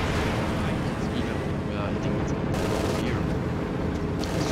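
A P-47 strafing run in a World War II strategy video game: dense, continuous roaring machine-gun fire and explosions fill the whole stretch, loud and sustained, with a caster talking over it.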